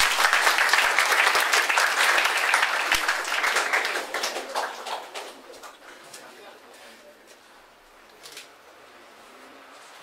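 Applause from a school audience at a high school student council election, loud broadband clapping for several seconds that fades and thins out, with a few scattered claps later.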